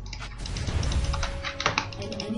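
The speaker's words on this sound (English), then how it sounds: "can just hear you clicking" Computer keyboard keys clatter in a quick, steady run of close, crisp clicks while playing a PC game, with no talking over them.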